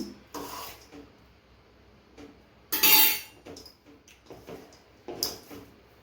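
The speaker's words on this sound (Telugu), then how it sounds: "ఇది కొంచెం వేడిగా ఉంది కాబట్టి నేను స్పూన్తో కలుపుతున్నాను." A spoon mixes hot lemon rice in a metal vessel, making close, irregular scraping and rubbing strokes with a few louder clinking bursts in between.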